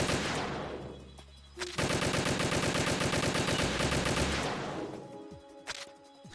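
Rapid sustained gunfire from Metal Gear Solid 2 Substance, a dense burst of automatic shots lasting several seconds after a brief lead-in, loud and close, tailing off into scattered clicks and smaller sounds.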